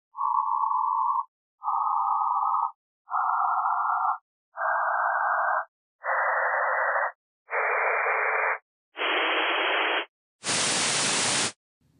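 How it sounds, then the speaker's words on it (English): A series of eight steady noise bursts, each about a second long with brief gaps, the hiss widening until the last burst is a broad, full rushing noise. "in the end, I play the full bandwidth noise again"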